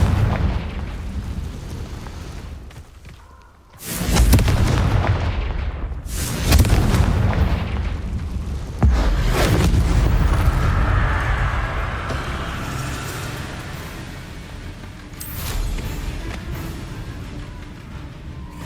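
Confringo spell explosions in the Hogwarts Legacy video game: four loud, heavy booms burst out a few seconds apart, each dying into a rumbling tail, with no talk over them.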